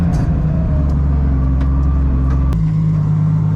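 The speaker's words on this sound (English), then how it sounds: "We got some nasty wheel hop too." A clutch-kicked car bucks through violent wheel hop, a loud rumbling engine drone with stuttering low pulses that shifts abruptly in pitch partway through, close and continuous with no talk.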